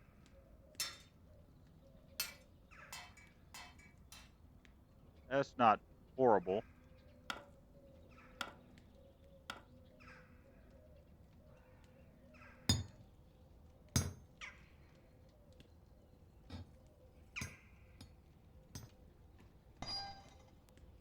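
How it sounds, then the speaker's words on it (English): Sharp metallic hammer strikes on a workpiece in the Medieval Blacksmith video game, irregular single clangs spaced a second or two apart plus a quick ringing cluster, under a quiet voice. "And I don't know how this is going to react to the hammer."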